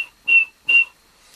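A beatboxer imitates a samba whistle with the voice, producing two short, shrill whistle-like bursts of equal length separated by a brief pause, close and clear against silence.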